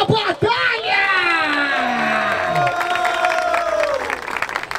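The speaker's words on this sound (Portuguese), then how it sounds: "Palmas pra essa batalha!" A crowd at the grand final of a hip hop rap battle in Barueri applauds and cheers loudly, with whoops and shouts over steady clapping, while an MC's voice rises and falls over the noise.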